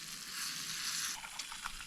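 Smelt fish fry in a pan outdoors in the woods, giving a steady, close hiss of sizzling oil that eases slightly, followed by a few small crackles and pops near the end.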